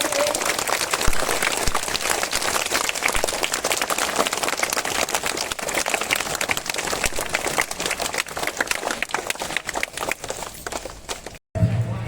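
Audience at a school Independence Day event clapping steadily and fairly loudly for about eleven seconds, with a dense, even patter of hands before it abruptly cuts off.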